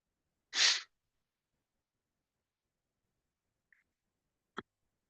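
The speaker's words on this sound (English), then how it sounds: "Oh, I need to sneeze." A single sharp sneeze bursts out near the start, followed by near silence with a faint click and a brief tap.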